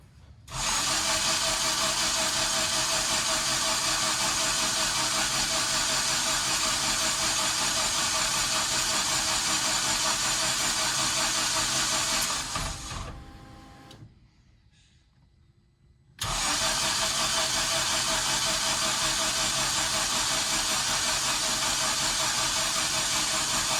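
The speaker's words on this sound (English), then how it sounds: "I'm essentially going to just prime it without plugs in it on the starter motor" A Honda engine fitted in a Porsche 911 cranks on its starter with no spark plugs in, a loud steady whirring drone that runs about twelve seconds, drops away briefly, then resumes just as loud.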